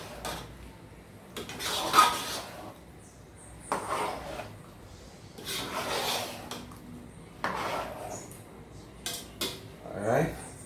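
Shrimp are stirred in a metal pot with a utensil, giving intermittent scraping and clanking strokes at close range, with someone talking between them.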